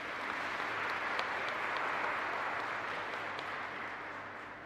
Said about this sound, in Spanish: Y el fuerte aplauso para el Señor.